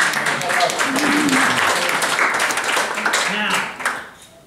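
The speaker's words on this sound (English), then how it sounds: "Give him a round of applause." A classroom or lecture audience gives a round of applause, a dense burst of clapping from many hands that carries on for several seconds, mixed with cheering voices, then fades out.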